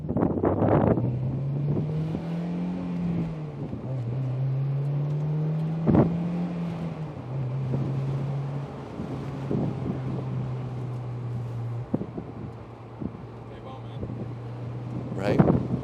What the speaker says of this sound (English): Just wanted you to maybe extra hear a exhaust note or two.